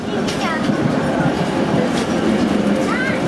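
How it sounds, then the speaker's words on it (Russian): A KT-4 tram in Pyatigorsk rolls along its rails nearby, a loud steady rumble with faint squeals and clacks, and a voice is heard over it. "А вот и наш трамвай."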